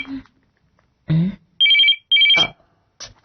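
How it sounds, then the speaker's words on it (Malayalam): Telephone ringing indoors: two loud electronic ring bursts separated by a short gap, with brief voices and clatter before and after. "ഈ ഫോൺ അടിക്കുന്നത് കേട്ടില്ലേ?"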